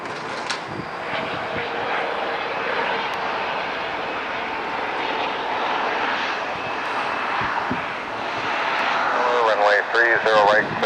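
A British Airways Boeing 787-9 takes off from San Jose International, its engine roar holding steady and loud for the whole stretch while tower radio talk runs over it.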